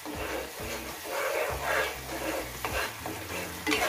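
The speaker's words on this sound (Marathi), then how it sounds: "आणखीन थोड्या वेळ आपल्याला हे परतून घ्यायचे, म्हणजे छान तेल सुटेपर्यंत आपल्याला ही प्युरी भाजून घ्यायची आहे." Tomato puree fries in oil in a pan with a steady, close sizzle and a few soft stirring scrapes. It runs continuously for a few seconds with no voices.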